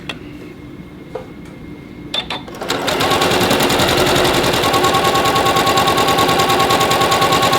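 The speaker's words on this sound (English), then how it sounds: "And now I can sew this one" Quilt pieces run through a sewing machine in a loud, even, rapid stitching drone that lasts several seconds. A few handling clicks and taps come first.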